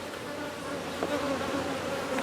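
Honeybees buzz steadily around an open hive as frames are lifted during a summer inspection, a close, continuous insect hum with no talking.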